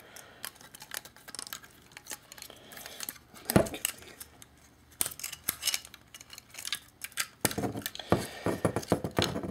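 A plastic Transformers Generations Megatron figure is twisted and clicked by hand, with scattered small plastic clicks and snaps, one sharper knock midway, and no voice over it.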